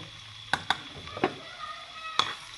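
Onions browning in ghee in a frying pan for a mixed moong and masoor dal, with a soft sizzle and a few sharp spoon-against-pan clinks as they are stirred, close and without talk.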